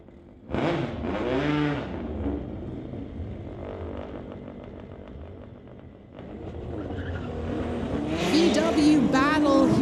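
A 2004 VW and another VW street racing at a legal drag event, engines revving up and roaring past loudly, then fading before a second loud surge of acceleration near the end, with people talking over the noise.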